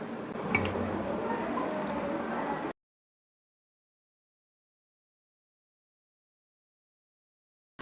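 Soaked soya chunks are pressed down in hot water in a pan with the stove off, giving a short wet squishing that runs for under three seconds before the sound cuts to silence.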